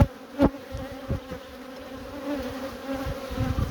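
Busy hum of honey bees in a large colony, a steady close drone with a few louder individual bees passing near, no voices.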